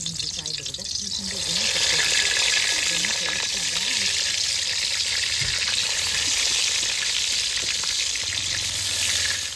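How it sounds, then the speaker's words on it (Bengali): Steady, loud sizzling and hiss of eggplant (brinjal) frying in a pan of oil right after fish was fried, cooked outdoors at a family khichuri picnic, continuing throughout with faint background voices. "মাছ ভাজা হয়ে গেছে, এবার বেগুনটা ভেজে নিচ্ছি।"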